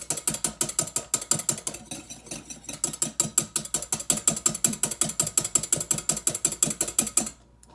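Rapid, rhythmic rattling whir of a handheld electric mixer beating egg whites into meringue, steady pulses for several seconds before cutting off, close and loud.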